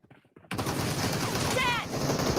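Sustained, loud video game gunfire starts abruptly after a short quiet stretch with a few soft sounds, then carries on as dense, steady shooting to the end.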